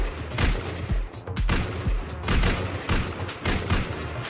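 Gunfire in the video game Rust, a steady series of sharp, loud shots fired in quick clusters with brief gaps, close and punchy against a noisy background.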